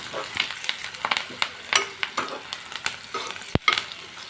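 Chicken curry frying with curry leaves in a pan, a loud crackling sizzle punctuated by rapid, repeated spatula scrapes and one sharp metallic knock, close and uninterrupted by talk.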